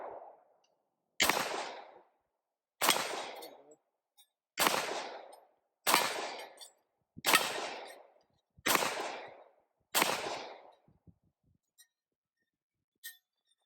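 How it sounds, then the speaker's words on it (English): Seven sharp pistol shots from a stainless full-size Taurus 1911 in .45 ACP fired at steel targets ten yards away, evenly spaced about a second and a half apart, each a loud crack with a short ringing tail, then a faint click. "let's see if we can ring some steel here. See if I can hit anything at 10 yards."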